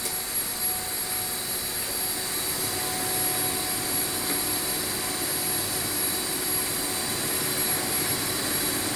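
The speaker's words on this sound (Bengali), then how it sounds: "পলি মেশিন।" A poly bag making machine running, giving a loud, steady, dense mechanical roar with a faint whine and no pauses.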